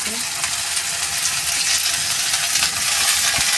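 Brinjal (eggplant) being stirred in a pan while cooking leafy bhaji: a steady broadband sizzle with scraping, clinking stirring noises, close and fairly loud throughout.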